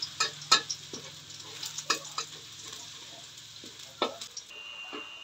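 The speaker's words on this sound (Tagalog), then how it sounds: "Gagawin na naman natin itong golden brown para sa ating fried rice mamaya." Garlic fries in a pan until golden brown, destined for pork tapa egg fried rice, with a steady soft sizzle broken by several sharp scraping stirs of a spatula and clinks against the pan, close and fairly quiet throughout.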